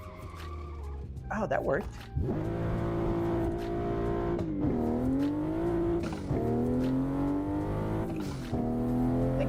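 Assetto Corsa racing sim driving a car, with a handbrake turn: engine note rising and falling through shifting revs, a brief squealing sweep near the start, with a person speaking briefly over it.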